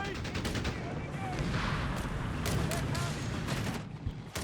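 MG42 machine gun fire in Company of Heroes 3 sounds as rapid, repeated bursts of battlefield shooting, with mixed game combat noise continuing throughout.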